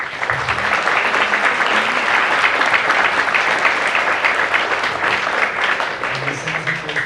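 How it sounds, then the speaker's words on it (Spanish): Steady, dense applause from a seated audience at a human rights lecture in Puebla, thanking a doctor speaker, sustained and even throughout without a break. "Un aplauso para la doctora."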